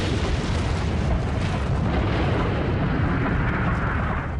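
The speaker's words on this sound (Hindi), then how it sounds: "जापान के दूसरे शहर नागासाकी पर भी एक और परमाणु बम गिरा दिया गया।" Atomic bomb explosion over Nagasaki, a continuous roaring rumble like a huge blast or eruption, loud, broadband and sustained without a break, with no voices.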